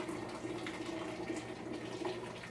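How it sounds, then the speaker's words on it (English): Hot water from a pot is poured over two cups of organic sugar for kombucha, making a steady, soft splashing trickle that runs continuously at low level with no talk. "We're going to pour all the contents of the pot into our 2 cups of organic sugar"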